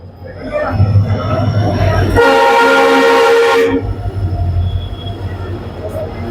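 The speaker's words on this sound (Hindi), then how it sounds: "ये देखिए, ट्रेन पहुंच रही है।" A train pulls into a railway station at Sujangarh, its loud horn blaring for a sustained stretch over rumbling wheels and a crowded platform, with voices and crowd noise throughout.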